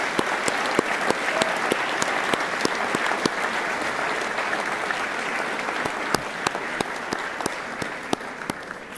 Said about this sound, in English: join me in a round of applause to say thank you to those who have helped you so much